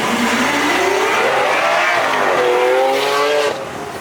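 Stock Lamborghini Aventador SV engine revving up and down, a loud, close, continuous roar with rising and falling pitch over about four seconds, easing off slightly at the end.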